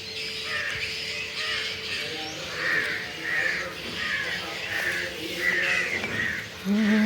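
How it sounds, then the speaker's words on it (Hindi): Several crows caw repeatedly near flowering plants outdoors, a run of harsh, fairly close calls spaced every second or so, with faint background sounds between them. "देख कौआ बैठे हैं उड़ तक हो गए"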